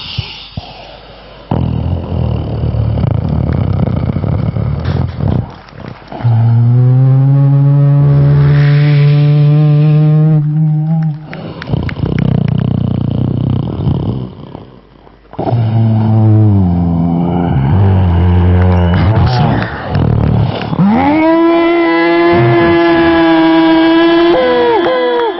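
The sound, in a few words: mimicry artist imitating Jurassic Park trailer dinosaur sounds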